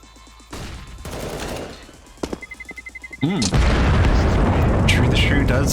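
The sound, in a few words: bomb exploding in video game Counter-Strike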